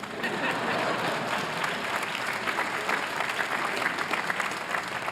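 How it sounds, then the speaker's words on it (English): A large outdoor crowd at the 2014 Harvard commencement claps in a dense, even wash of applause that holds steady for the whole stretch without any speech over it. "yes, you can applaud"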